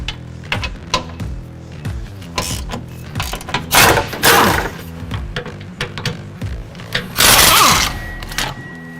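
Ratcheting on the 13 mm fuel tank strap bolts of a 2011-16 Ford Powerstroke 6.7L crew cab, rapid metallic clicking in repeated bursts with clanks and a couple of louder rasping pulls, close by.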